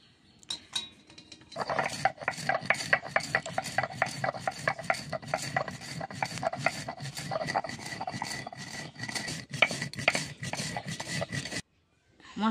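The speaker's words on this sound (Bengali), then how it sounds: "ভাজা মশলাটা আমি গুঁড়ো করে নিচ্ছি শিলে ফেলে।" Fried spices being ground by hand on a stone shil, a fast, regular run of rasping back-and-forth strokes, close and steady for about ten seconds before stopping.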